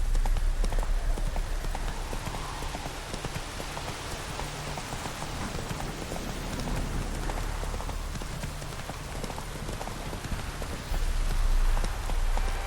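Hooves beat rapidly as a horse gallops through the rain in Witcher 3: Blood and Wine, a steady clip-clop rhythm under a constant hiss of rainfall, loud and close throughout.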